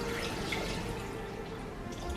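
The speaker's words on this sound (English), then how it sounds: "after I put the vegetables in, I'm going to put the water in." Water pours steadily into a pot of vegetables for soup, a soft continuous splashing rush at close range with no talking.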